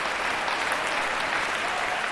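Steady crowd applause and cheering in a London 2012 Olympics video game table tennis match, a dense continuous roar with no pauses.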